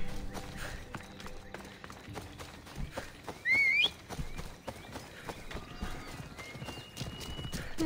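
A horse in Assassin's Creed Odyssey trots with a steady, rapid clip-clop of hooves under game ambience, with a brief whinny and a whistle-like tone partway through.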